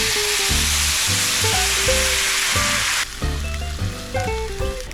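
Bullfrog legs fry in a pan with a loud, dense, steady sizzle close by, the hiss easing somewhat partway through, while a separate tonal pattern runs underneath.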